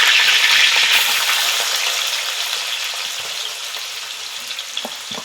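Curry leaves and finely chopped onion hit hot oil for misal over a wood-fired stove, giving a loud, close hiss of frying that bursts up at first and then slowly settles with scattered crackles.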